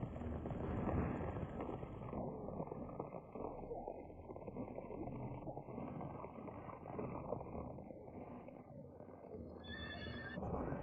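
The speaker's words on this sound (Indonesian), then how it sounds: "Kuda yang bagus. Seperti yang ada dalam legenda." A horse whinnies loudly and at length, close by, over a steady trample of hooves, the neigh holding strong throughout with no talk over it.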